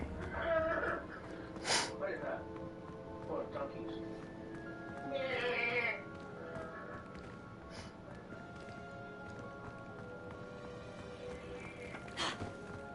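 Donkeys bray in a Hogwarts video game: a few loud, harsh whinnying calls rise over steady background game ambience, with a voice talking intermittently throughout.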